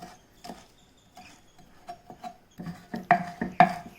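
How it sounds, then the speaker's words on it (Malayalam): A knife taps sharply on a cutting board, chopping coriander leaves in irregular strokes, sparse at first then faster and louder toward the end, close up without talk. "മല്ലിയിലയും നമുക്ക് ഇതുപോലെ തന്നെ അരിഞ്ഞെടുക്കാം"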